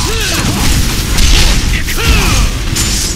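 A booming explosion and clanking mechanical crash as an inhibitor is destroyed in League of Legends, loud and layered over busy game effects with sweeping whooshes, followed by a second similar burst.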